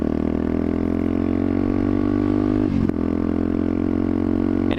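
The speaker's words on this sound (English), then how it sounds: "The resonance and the loudness of it is just amplified because this tube is basically an echo chamber, more or less, for the exhaust system." Benelli motorcycle fitted with a Pipe Werx exhaust, its engine droning loud and steady with a rich resonant tone, briefly dipping and flaring in two quick blips of the throttle.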